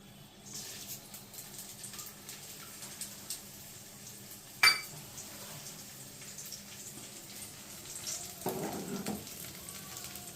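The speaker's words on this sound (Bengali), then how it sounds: "আমি এবার এই তেলের মধ্যে এই ফোড়নটা দিয়ে দেবো, গোটা জিরে, তেজপাতা আর শুকনো লঙ্কা" Whole cumin, bay leaf and dried chilli frying in hot oil for a chicken channa masala, giving a steady soft sizzle with a sharp clink near the middle and a brief louder burst of crackle toward the end.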